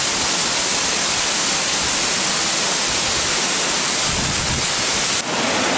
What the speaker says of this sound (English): This beautiful waterfall